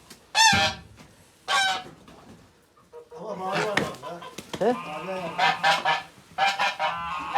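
Fattening geese on a farm honk loudly in repeated bursts, several birds calling close by, with people talking between and over the calls.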